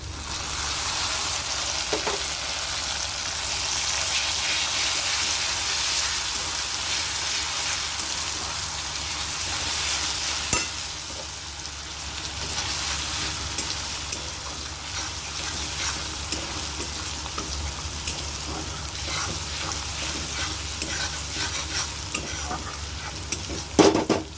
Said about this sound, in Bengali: এবার আমি রসুন বাটা দিচ্ছি।